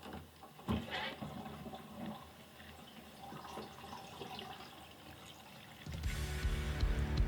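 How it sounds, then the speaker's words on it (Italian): Water drains out of a small camping washing machine in steady broadband splashing and gurgling, growing louder and fuller near the end, with no voices. "Scarichiamo l'acqua."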